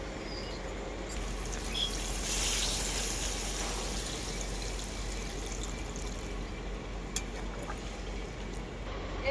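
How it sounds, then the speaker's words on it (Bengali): Water is poured into browned chicken curry cooking in a pot, a soft, steady trickling and splashing that swells briefly near the start, then continues faintly and evenly over a low background hum. "এখন আমি মাংসের মধ্যে পরিমাণ মতো জল দিয়ে দেব।"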